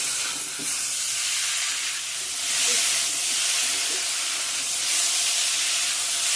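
Cauliflower and potato pieces fry with spices in hot oil, giving a steady, dense sizzle and hiss that swells slightly now and then, with no voices.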